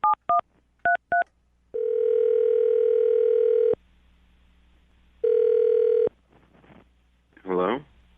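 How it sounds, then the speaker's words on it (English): Telephone keypad tones beep several times in quick succession, followed by a long steady dial tone that cuts off and returns briefly, then a faint voice at the end. "I'm going to dial the phone number right now and get him on the phone"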